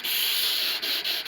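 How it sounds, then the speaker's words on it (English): A flat sanding disc grinds steadily across the wooden body of a five-string cello, a loud, continuous abrasive hiss that briefly dips three times near the end. "we used nice and flat sanding disc"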